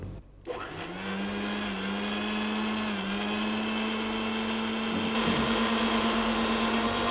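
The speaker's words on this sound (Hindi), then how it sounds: "इसको हम पीसेंगे, इसके अंदर अदरक डाल दें" An electric kitchen blender grinds sprouted moong with ginger and water. After a brief start, it settles into a loud, steady whirring drone that runs unbroken to the end, with no voices.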